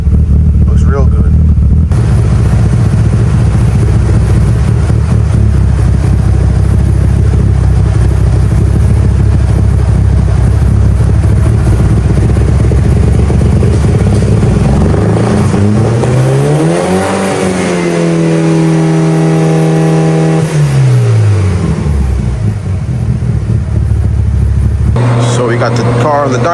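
Mitsubishi Evo 8 idling strapped down on a dyno, a loud steady engine drone that later dips and rises in pitch as the revs shift, with talk over it.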